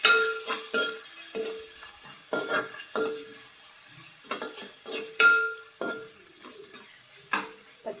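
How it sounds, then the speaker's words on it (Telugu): Rice fries in a pot for village-style egg biryani with a soft sizzle underneath, while a spoon stirs and scrapes in an irregular rhythm of metallic clinks and knocks close by. "పచ్చివాసన పోయేదాకా ఫ్రై చేసుకోవాలి."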